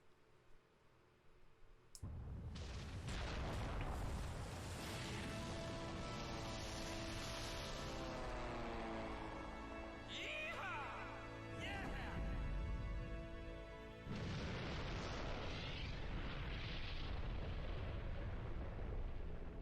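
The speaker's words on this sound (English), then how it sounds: "I don't like the fact that the explosion was purple." A purple explosion erupts in the Devil May Cry video game finale as a sudden loud, broadband roar that holds steady for many seconds, with a brief lull midway before it surges again.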